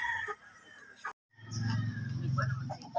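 Rhode Island Red and Black Australorp chickens cluck in a short burst of close, low clucking, with quieter bird calls before it.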